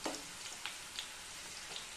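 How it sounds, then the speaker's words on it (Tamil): Onions and curry leaves fry in hot oil, giving a soft, quiet crackle with a few faint ticks and pops scattered through. "நான் கொஞ்சம் வெங்காயமும் கருவேப்பிலையும் வந்து பொரிச்சிக்கிறேங்க."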